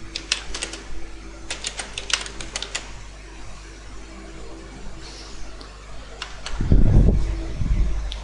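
Keys on a computer keyboard tapped in quick bursts while a search term is typed, close and fairly faint over a steady fan-like hum, with a louder low thump near the end.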